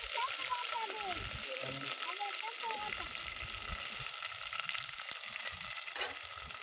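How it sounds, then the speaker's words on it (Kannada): Steady, continuous sizzle of food frying in hot oil for an egg masala curry made with jowar flour, bright and close, with faint background sounds and no break in the hiss. "ಎಣ್ಣೆ ಒಳಗೆ ಒಂದು ಸ್ವಲ್ಪ ಫ್ರೈ"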